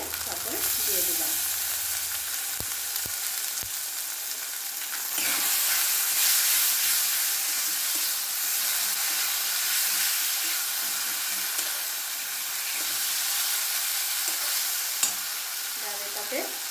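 A spice paste of ground cumin, Kashmiri chilli and turmeric mixed with water sizzles and fries steadily in a hot pan, with a constant broadband hiss and occasional stirring scrapes, fairly close and without talk.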